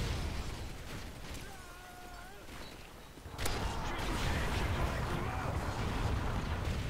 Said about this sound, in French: Hop, grenade.